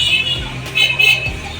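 Street traffic rumbles behind a roadside stall cooking tawa maghz, with passing motor vehicles and a brief horn toot close by under the sizzling.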